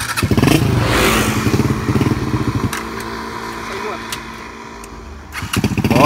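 A motorcycle engine revs and thrums as a beginner learns to ride, loud and close, with the pitch rising and falling. People talk over it almost throughout, and a couple of thumps can be heard.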